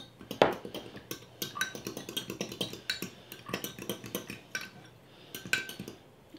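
A spoon stirs a sour milk and baking soda mixture in a bowl, giving a quick run of close clinking and scraping taps in a steady rhythm, with a brief pause before a few more stirs.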